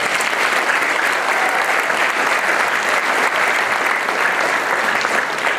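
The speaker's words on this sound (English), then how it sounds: "Let's give our teachers a round of applause" A school audience applauds its teachers at a departmental awards evening, a dense, steady wash of many hands clapping close and loud throughout, with no speech over it.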